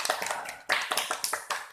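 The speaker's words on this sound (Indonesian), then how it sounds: "Aplaus buat kelompok 2" Classroom applause for a student group: a short burst of hand clapping from several pupils, uneven and fairly close, rising and falling in quick waves for under two seconds.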